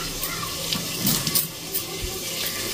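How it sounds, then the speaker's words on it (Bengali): Water runs from a kitchen tap while hands are washed beneath it, a steady close splashing stream with small bursts of spatter, heard alone without talk. "দাঁড়াও হাতটা ধুয়ে নিই।"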